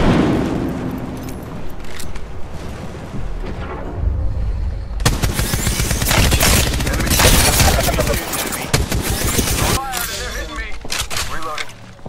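A frag grenade explosion in the battle royale game Apex Legends, a heavy boom with gunfire and game noise around it while a voice talks.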